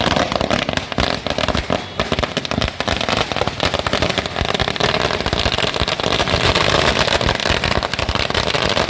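Firecrackers burst at a street celebration at a city statue square, a dense, loud, rapid volley of crackling pops running nonstop for several seconds, with traffic noise in the background.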